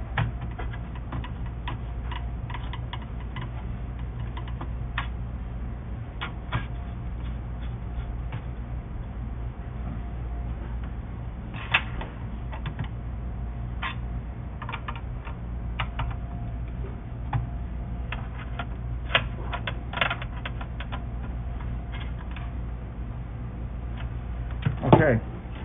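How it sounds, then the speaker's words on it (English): Motherboard screws being driven at the four corners, small irregular ticks and clicks of a screwdriver over a steady low hum, with a person talking intermittently. "now I'm going to go to all 4 corners and tighten my motherboard down"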